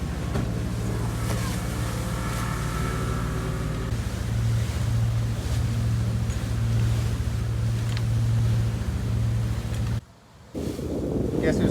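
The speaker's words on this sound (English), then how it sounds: "So there's no wind, but there are a lot of boats. So there's a lot of stirring it up." Boats crowding a harbor on a calm, windless Sunday afternoon churn the water, giving a steady close engine drone and wash that runs without pause, dropping out briefly near the end before resuming.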